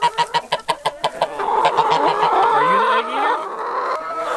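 Hens in a backyard coop give a quick series of sharp, loud clucks, then a longer drawn-out squawking call from nearby, with no people talking.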